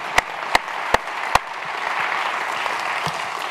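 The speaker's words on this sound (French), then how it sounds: "on peut l'applaudir s'il vous plaît" Four sharp, separate claps ring out first, then a conference audience breaks into steady, sustained applause that fills the rest of the moment at moderate loudness.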